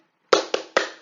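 Three sharp rhythmic claps from a class doing an economics clapping chant, close and crisp with a short pause before the first.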